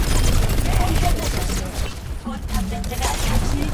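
Rapid gunfire in an Overwatch match comes as a loud, dense barrage of shots mixed with booms and other game effects, packed tightly together in a brief burst.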